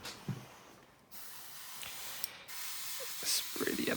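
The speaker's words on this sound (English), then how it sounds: "Just spray that light color" Short hissing bursts of spray paint close by on a scale model aircraft, broken by brief pauses, with faint handling noises and a bit of breathing.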